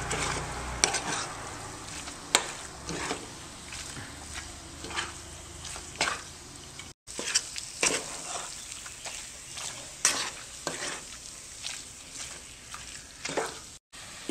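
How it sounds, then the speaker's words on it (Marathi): Moong dal for halwa is sautéed in a pan while a steel spatula scrapes and stirs it, producing soft steady sizzling punctuated by repeated sharp scraping strokes at an uneven rhythm. "खाली न लागू देता आपल्याला ही डाळ छान परतून घ्यायची."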